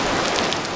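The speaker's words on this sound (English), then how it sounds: "it is downpouring right now, so we're just waiting out the rain" Hard tropical downpour in Lamu, Kenya: a dense, continuous hiss of heavy rain drumming on surfaces, loud and close with no break.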